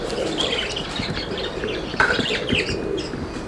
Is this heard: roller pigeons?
yes